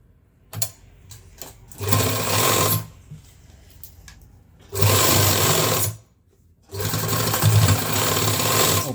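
Sewing machine stitching a zip onto a school coat, running in three loud sustained bursts separated by short pauses and faint handling noises, with no voices.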